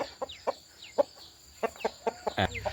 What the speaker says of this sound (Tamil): இதான் இதுதான் சேவலுங்க.